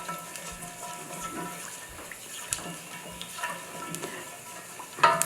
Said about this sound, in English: And let it fry up until it's nice golden brown